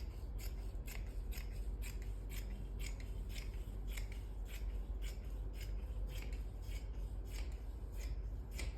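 Scissors slice through printed suit fabric while a length is cut out for a garment, giving a rapid, even run of crisp snips close up and alone with no voices.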